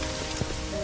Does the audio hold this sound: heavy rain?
yes